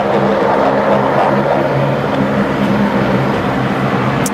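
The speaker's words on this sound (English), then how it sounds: "Next aircraft coming in 19 left is Velocity 951 from Sydney, 737-800. Just passing through 500 feet." A Boeing 737-800 airliner on final approach to Brisbane Airport's runway 19 left, passing about 500 feet: a loud, steady, broad jet roar with low engine hum, constant throughout and unbroken by voices.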